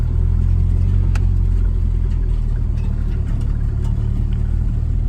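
A turbocharged Honda Civic idles with its exhaust dragging and a slight lifter tick, producing a loud, steady low rumble close by with a few faint clicks on top and no talking.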